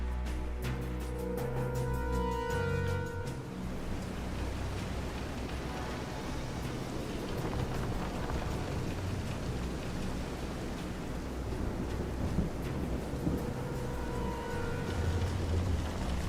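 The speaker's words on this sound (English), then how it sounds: "This is some storm." Steady storm ambience from the Visions of Mana video game, with continuous heavy rain and low rumbling thunder filling the whole stretch at a constant loud level, with no voices.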